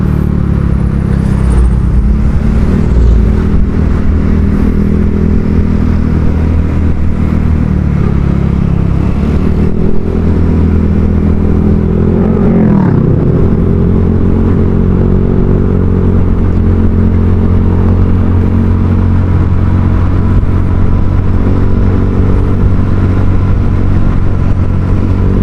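A Honda Vario 150 scooter with an aftermarket Kenziro exhaust rumbles and revs continuously with a deep, throaty note, loud and close, rising in pitch briefly midway.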